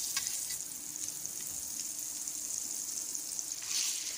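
Butter sizzles and fries steadily in a hot pan on the stove just before egg goes in, a continuous close crackling hiss with no talk.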